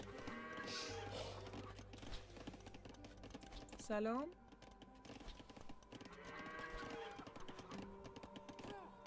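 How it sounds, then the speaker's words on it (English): Goats in a video game bleat once, loud and brief, amid a busy mix of game effects and mouse and keyboard clicks, with a commentator talking throughout. "And these goats are going to make their way back here"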